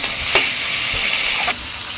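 Chicken pieces fry in a pan with salt and spices, producing a constant close sizzle broken by a couple of brief stirring scrapes, with no talking.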